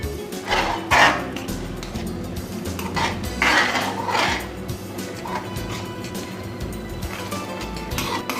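A spoon scrapes and clanks against a pan while cornflour slurry is stirred into fried potato and vegetables for potato manchurian, giving repeated metallic knocks and clatters over a low background hum, with no talking.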